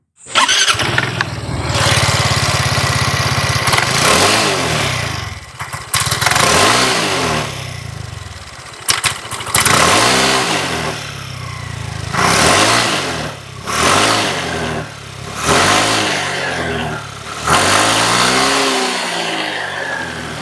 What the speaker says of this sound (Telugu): ఒకసారి మనం ఎగ్జాస్ట్ సౌండ్ అనేది ఏ విధంగా ఉందో ఒకసారి చెక్ చేద్దాం